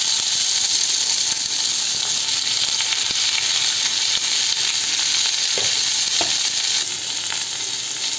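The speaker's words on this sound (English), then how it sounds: "add in the onions." Onions added to hot cooking oil sizzle loudly and continuously, a bright steady hiss close up with a couple of faint stirring knocks near the end.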